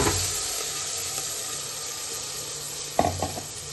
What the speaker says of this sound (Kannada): ಕರಿಬೇವು, ಹುರ್ಕಿರಲ್ಲ ಅದನ್ನು ಹಾಕ್ಕೊಂಡು ಸ್ವಲ್ಪ ಎಣ್ಣೆಯಲ್ಲಿ ಫ್ರೈ ಮಾಡ್ಕೊಂಡು